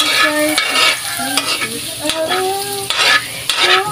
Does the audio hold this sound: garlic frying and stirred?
yes